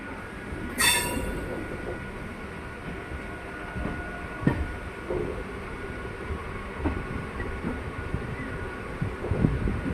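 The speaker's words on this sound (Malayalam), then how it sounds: "ഈ ട്രെയിൻ സേലം യശ്വന്ത്പൂർ പാസഞ്ചർ ട്രെയിനാണ് ഇപ്പോൾ ഇതാ പോയിക്കൊണ്ടിരിക്കുന്നത്" The Salem–Yesvantpur passenger train rumbles past with rhythmic wheel clatter and a brief high squeal near the start, steady and fairly close, near Yesvantpur.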